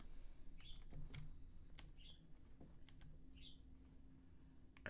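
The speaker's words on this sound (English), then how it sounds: "These birds are loud as fuck." Birds chirp outdoors with short, bright two-note calls repeating about every second and a half. They sound faint and distant over a steady low hum, with scattered soft clicks like a mouse or keyboard.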